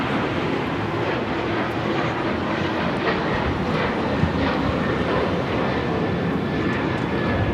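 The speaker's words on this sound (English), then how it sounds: "That was Delta Airlines 1875 taking off to Los Cabos on the 737-900ER" Delta Airlines Boeing 737-900ER taking off from LAX, a loud, broad jet roar that stays strong and steady throughout with no speech.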